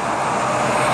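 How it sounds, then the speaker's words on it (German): A truck passes close by on a rural country road with no bike lane, a dense, steady roar of tyres and engine that stays loud through the whole moment. "hinter uns kommt schon der nächste LKW."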